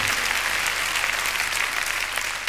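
Steady, loud audience applause fills a 1984 German TV song contest hall, a dense continuous clapping wash with no gaps and no talk.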